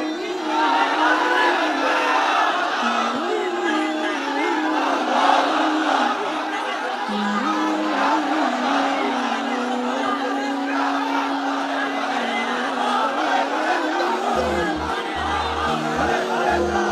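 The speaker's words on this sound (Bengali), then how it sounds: "তাকবীর দেন তো একজন আওয়াজ করে।" A large sermon crowd shouts the takbir (Allahu Akbar) in unison, a loud sustained roar of many voices that swells and holds for several seconds, then is answered by further massed chanting.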